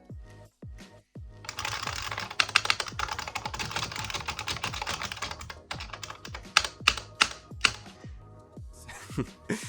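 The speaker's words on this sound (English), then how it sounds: "IBM Model M keyboards are famous for using the buckling spring method of actuation for the keys" Rapid clicky typing on a Unicomp Mini M buckling spring keyboard with crisp, springy key strikes, steady bursts and a few louder clacks near the end, close and clear.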